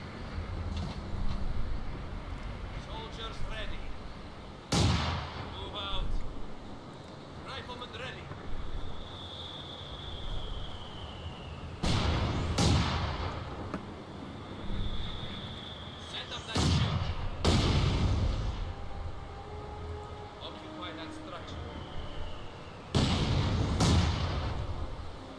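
Mortar and artillery shells crash in repeated heavy booms, roughly every few seconds, in a Company of Heroes 2 battle, with whistling incoming rounds and wind noise between impacts.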